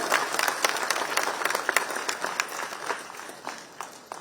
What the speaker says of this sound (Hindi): जोर जोरदार करताली हो